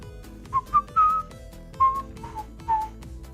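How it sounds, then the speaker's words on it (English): A person whistles a short melodic phrase of several clear notes in bursts, close and fairly loud, during an Illuvium Overworld gaming stream, with game sounds faintly underneath. "Sorry if maybe whistling is not nice for ears."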